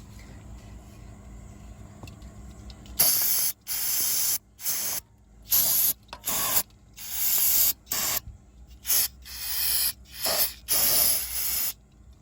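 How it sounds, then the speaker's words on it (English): Carburetor cleaner sprays into a Predator 79cc small engine in around nine short, loud hissing bursts separated by brief pauses, close up after a quiet start. "Now we're going to clean this out real quick with a little carburetor cleaner."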